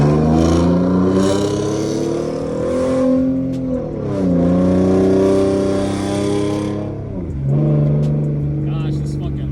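A V6 Ford Mustang with a loud aftermarket exhaust revs and accelerates through several gears, the note rising, dipping on shifts and climbing again, close and dominant throughout.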